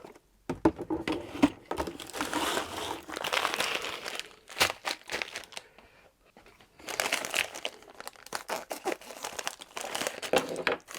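A homemade wet ammo tumbler drum turning with a kilo of stainless steel pins, washing-up liquid and rinse aid inside, giving a busy crinkling, pattering rattle that runs in long bursts with a brief pause midway.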